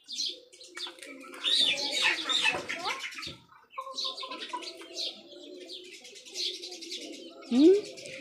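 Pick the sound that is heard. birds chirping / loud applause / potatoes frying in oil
birds chirping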